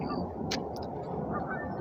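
A couple of brief goose honks come from a wetland pond in a park, fairly distant and faint above a steady outdoor background wash.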